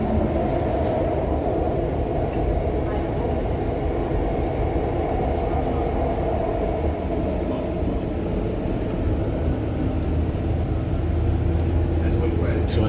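A noisy REM light-rail train in Montreal running on an elevated metal track, heard from inside as a loud, continuous rumbling roar with rattling and a steady mid-pitched whine throughout.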